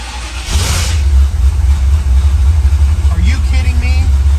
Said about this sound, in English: today is the day that I'm hoping we can get the car started for its initial turn